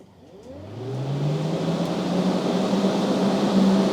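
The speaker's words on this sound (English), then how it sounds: "Just got one fan wired up just to make sure it's on suck and not blow." Electric radiator fan on a Nissan Patrol starting up and spinning to a steady, loud whir with a rising tone, running continuously close by with no talking.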